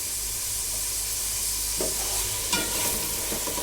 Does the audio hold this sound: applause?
no